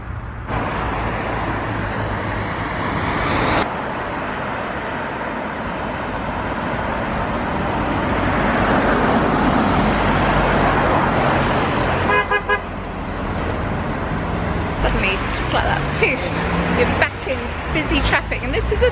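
Busy town road in Truro, Cornwall, with steady traffic rumbling past close by and a car horn tooting, while people chat over the noise.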